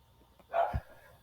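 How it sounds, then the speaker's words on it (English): A dog gives a single short bark at moderate distance, quick and somewhat muffled, with quiet background around it. "Dog is barking."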